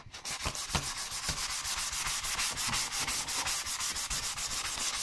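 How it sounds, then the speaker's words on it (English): Hand sanding a panel with 400 grit sandpaper makes a steady, close, rhythmic rasping scrub, with each back-and-forth stroke repeating evenly and no voices. "I'm gonna sand the entire panel."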